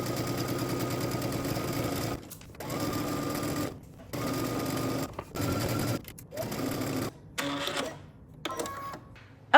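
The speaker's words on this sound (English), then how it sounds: "let's head to the sewing machine" A domestic sewing machine stitches a dress's center front seam in short bursts, its steady mechanical whirr stopping and restarting several times with brief silent pauses between runs.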